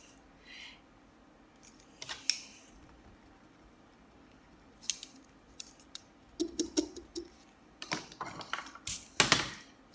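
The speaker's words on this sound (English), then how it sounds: "So I'm going to erase this because this all would just be one dark line." An eraser rubbing out pencil drafting lines on paper, in quick, scratchy strokes that come in short bursts and grow denser toward the end, close and quiet.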